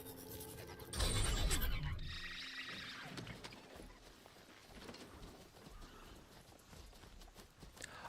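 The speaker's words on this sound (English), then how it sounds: "I don't like how you make your horse go faster." Horse hooves clop rapidly in a galloping rhythm in the video game Horizon Zero Dawn Remastered, loud at first and then continuing more softly under a busy background of other game sounds.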